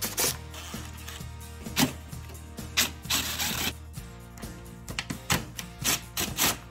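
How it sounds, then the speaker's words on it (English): Screws are being removed from the heater coil bracket of a GE PTAC unit, giving close, repeated ratcheting and scraping bursts with short pauses between turns. "So I'm gonna remove these screws along with the ground wires we have over here."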